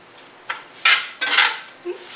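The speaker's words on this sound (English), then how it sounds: "And just kind of toss it around to get the olive oil moved around." A metal spoon tosses Brussels sprouts and salmon in olive oil inside a cast iron skillet, giving a few short scraping clinks and rattles in quick irregular bursts, close and alone.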